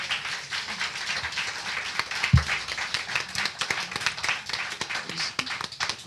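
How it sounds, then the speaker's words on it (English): An audience at a jazz and blues panel event claps for the panelists, a sustained spatter of many hands of moderate loudness that lasts several seconds, with one sharper nearby clap partway through. "let's give a round of applause for our panelists"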